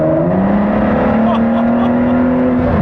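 A 2017 Ford GT supercar's twin-turbo V6 engine rising in pitch as the throttle rolls on, a loud, close, continuous growl that climbs and holds over a few seconds, with a voice faintly underneath.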